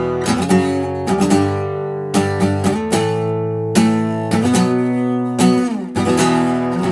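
Chordal intro of a song played on a single instrument, with sustained repeated chords in a steady rhythmic pattern, broken by brief gaps between phrases and no voices.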